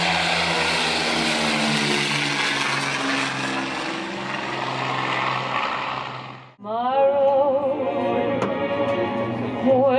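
A de Havilland Mosquito warbird takes off at the Warbirds Over Wanaka airshow, its piston engines and propellers roaring loudly with a steady drone, then the pitch shifts as it passes and climbs away.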